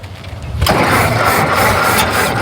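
A 1926 Ford Model T engine cranks briefly, then catches and starts, settling into a loud, rough, close running clatter.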